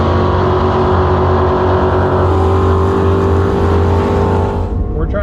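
A gutted Tesla Model S Plaid makes a quarter-mile drag strip pass. Its steady electric whine runs loud over track noise with a rising tonal pitch, then fades near the end.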